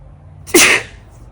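A single sharp sneeze bursts out of a quiet room, brief and close.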